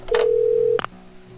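A telephone rings in the video game Parasite Eve 2: one steady electronic ring tone holds for just over half a second, then a short clicking burst follows. The sound is clear, close and alone, with no talk.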